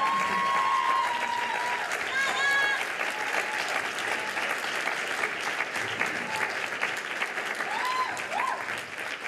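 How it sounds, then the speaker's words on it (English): An audience at a high school cultural awards evening applauds in a sustained, even wash of clapping, with a few whoops and murmured voices rising over it. "I think the applause says it all"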